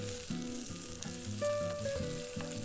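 Vegetables such as carrot and zucchini stir-frying in a wok over medium-high heat for a spicy Korean squid stir fry: a continuous bright hiss, partly covered by a melodic tune playing over it.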